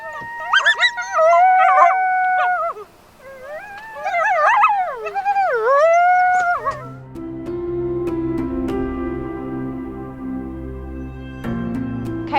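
Coyotes howl and yip in rising, wavering calls, several voices overlapping loud and close, then fading as a low musical bed takes over for the rest.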